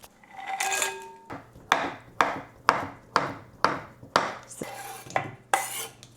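A knife chops food on a board for melting in a Valentine's Day gluten-free dessert, about nine sharp, evenly spaced cuts with clicks of the blade, close and clear with no talk.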